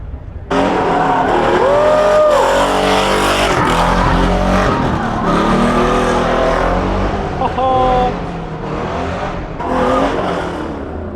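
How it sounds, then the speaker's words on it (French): Cars drifting at the Tuning World Bodensee show produce loud, wavering tire squeals over roaring engines, in several passes with rising and falling shrieks and brief lulls between them. "On va essayer de filmer 2-3 voitures qui passent en drift."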